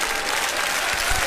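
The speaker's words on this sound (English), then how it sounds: "She gets a round of applause." A crowd at a local music event gives Savanna a round of applause, thick continuous clapping that is close, loud and even for its whole short length.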